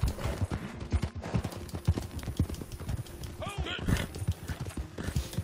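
Horse hooves clip-clop in a rhythmic, fairly quick beat in Red Dead Redemption 2 online multiplayer, moderately close, with voices murmuring underneath.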